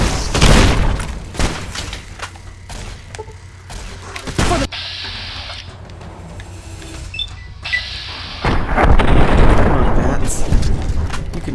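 Thump Thump grenade launcher blasts in Fallout New Vegas, several loud booming explosions and impacts in bursts amid game sounds, with a person talking between them.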